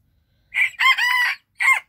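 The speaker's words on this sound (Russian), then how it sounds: "Ничего, квохчут как-то" Bantam chickens from Koh Samui clucking and crowing close by, a short rooster crow in three clear bursts with a gap before the last, alone against silence.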